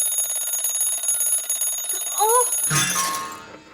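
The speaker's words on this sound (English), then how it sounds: "Oh no, my poor alarm clock." A cartoon alarm clock in Toyland rings with a rapid, bright metallic trill, then gives a rising cartoonish warble and ends in a loud clattering burst before fading out.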